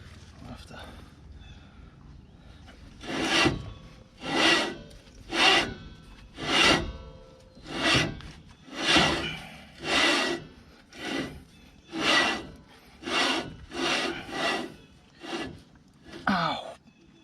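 A brake drum drags on a Dexter 7k trailer axle hub as it is turned by hand, producing about a dozen loud rasping scrapes in a steady rhythm, each rising and fading, close up with little else around.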